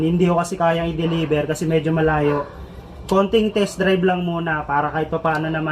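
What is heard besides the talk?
No everyday noise stands out behind the speech.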